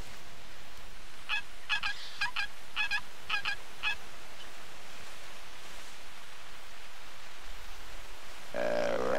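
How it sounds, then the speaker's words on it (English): Wild turkey toms call out in a series of rapid, clipped gobbling bursts, several clusters in a row at moderate distance over a steady outdoor wash of noise, then fall quiet. "Oh, more turkeys. Toms, yeah, sure enough."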